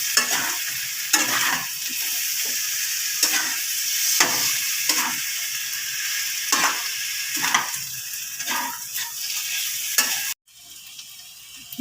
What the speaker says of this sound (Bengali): এখন আমি ধুয়ে রাখা মাংসগুলো এখানে দিয়ে দেবো